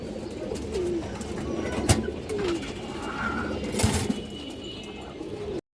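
A pigeon, one of the high-flying, racing or fancy breeds, coos softly in low, throaty phrases over steady background noise, with a few brief chirps and a faint flutter of wings.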